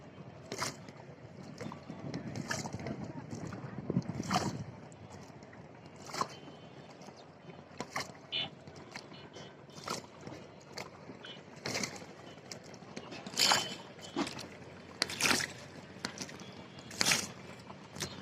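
A boat moves along a river, with broadband wind rush and water noise throughout and intermittent knocks or splashes breaking through at moderate, close range.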